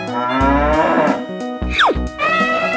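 Cartoon cow mooing in a children's animal show, a loud drawn-out low moo repeated several times with a short rising squeak between calls, no talk over it.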